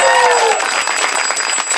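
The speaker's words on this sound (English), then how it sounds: "a huge round of applause for Big Nik" Studio audience applause for guest Big Nik on a dating-game show, dense steady clapping and cheering for nearly two seconds, loud and close, with some voices mixed in.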